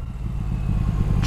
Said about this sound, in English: What I love about this motor is just the absolute pull it has from right down the bottom of the rev range.